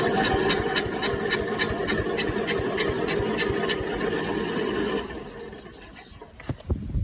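A Troy-Bilt small engine with a stuck valve runs with a rough, rapid pulsing chug that holds steady for about five seconds, then fades away, followed by a few sharp clicks.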